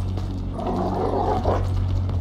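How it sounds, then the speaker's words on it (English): Chop the dog in Grand Theft Auto V lets out a gruff, rough growl-bark over a steady low hum, fairly close and lasting about a second. "Screw that dog, man!"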